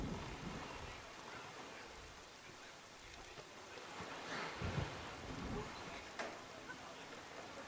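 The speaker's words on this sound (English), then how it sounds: "But it's constantly raining. It doesn't stop raining?" Steady rain hisses throughout in the video game The Legend of Zelda: The Wind Waker, with low rumbles of thunder rolling in the background and a few brief crackles; it stays fairly quiet and even.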